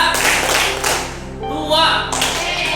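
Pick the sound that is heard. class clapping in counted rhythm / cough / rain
class clapping in counted rhythm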